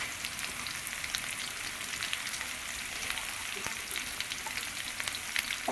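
Ginger and spices fry in a pan for a fish curry with radish and tomato, a faint, steady sizzle with scattered small crackles and pops.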